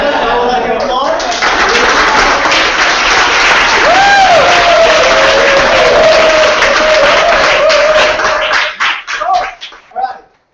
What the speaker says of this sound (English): I would like an applause.